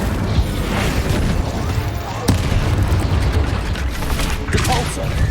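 Incendio fire spell blasting in Hogwarts Legacy combat, a dense rumbling burst of flame amid booming spell impacts and clatter, loud and continuous throughout with sharp hits near the middle.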